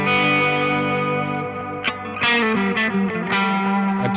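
Electric guitar, a Gibson 2013 Les Paul Junior in rubbed chocolate, run through an amp and an Alter Ego X4 delay on its Echo Rec 2 setting, rings out sustained chords with several fresh picked attacks that trail into repeating echoes, played alone.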